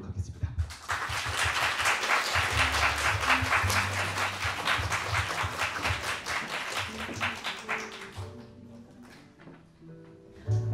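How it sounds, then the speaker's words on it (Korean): An audience at a talk on self-esteem and dieting claps steadily for about eight seconds to welcome a speaker to the stage, then the clapping dies away. "세 번째 연사분 우리 단 대표님 큰 박수로 모셔보도록 하겠습니다"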